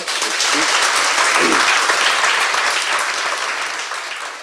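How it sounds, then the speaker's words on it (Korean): Loud, dense studio audience applause at the close of a Korean political talk-show segment, a continuous wash of clapping that holds steady for the whole stretch, with a few voices briefly underneath early on. "박수 부탁드립니다"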